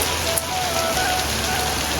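Heavy rain pours down in a dense, loud, even hiss of drops striking surfaces, steady and unbroken with no voices over it.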